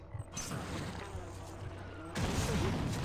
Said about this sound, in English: I'm shooting this with the anti-personnel round because I'm scared out of my fucking mind